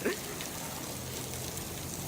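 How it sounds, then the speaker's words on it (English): Water from a broken sprinkler on grass hisses and patters steadily, sounding like rain, in a continuous soft wash with no talking. "we heard that loud water sound, and we thought it was raining at first, and we're like, no, it's a sprinkler"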